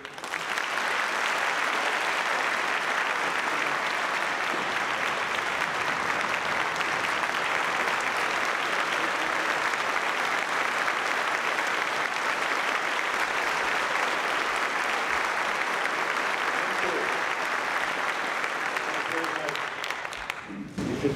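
Sustained audience applause for General James Mattis at Marine Corps Base Quantico, a dense, steady clapping from a large crowd lasting about twenty seconds before tapering off at the end.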